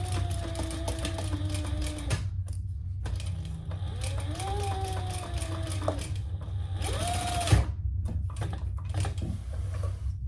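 A sewing machine stitches a second row of stitches on a vinyl handbag. A steady, close mechanical whir runs throughout with a few brief pauses, and the motor pitch swells and falls between stretches of stitching.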